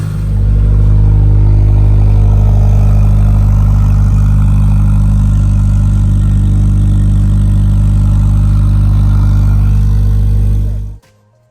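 A 2016 Toyota FR-S engine idles steadily for about eleven seconds with its car parked, a loud, constant low hum with light mechanical clatter, then cuts off abruptly at the end.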